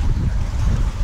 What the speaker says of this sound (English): Too busy trying to keep my kayak from flipping in these waves.